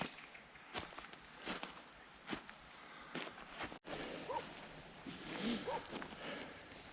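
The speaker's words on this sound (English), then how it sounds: "I can hear my dog Finn barking in the valley" A dog barks several times far off down a misty valley, the faint barks spaced irregularly across a quiet outdoor hillside ambience with some footsteps nearby.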